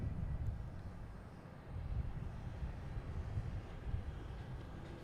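A JetBlue airliner arrives at Boston Logan Airport, its distant engines a low, steady roar that swells slightly partway through, heard outdoors with no voices.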